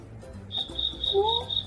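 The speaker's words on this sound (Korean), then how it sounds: "저숲 속에 귀뚜라미 소리가 들리네요." A steady, high-pitched cricket trill pulses rhythmically in a forest over low background murmurs, fairly close and continuous.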